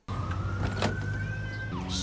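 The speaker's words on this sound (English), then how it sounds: "The sirens haven't stopped this whole time." A steady police siren tone holds across the clip over low vehicle rumble, with a falling wail near the end; no one speaks.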